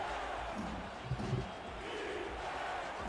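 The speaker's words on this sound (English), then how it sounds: "Home crowd trying to get their defense pumped up for this third down play." Home crowd at a football game during a third-down play, a steady broad roar of cheering with brief louder swells, heard mid-distance throughout.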